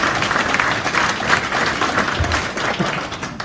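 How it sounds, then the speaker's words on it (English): Sustained applause from a crowd at a live motorcycle-racing fan evening at Cadwell Park, dense and steady throughout at close range. "Give yourself a round of applause"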